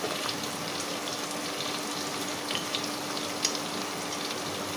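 Pointed gourd fries in a pan with chili powder added, a steady soft sizzle and crackle with faint pops, fairly quiet and without talk.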